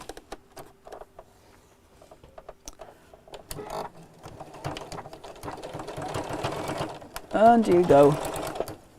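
A sewing machine stitches a chair cushion in short, intermittent bursts of rapid mechanical whirring that grow busier and louder toward the end, with someone speaking briefly over it.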